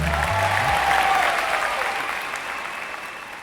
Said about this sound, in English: Please give a huge round of applause for the 2018 World Beat Artist of the Year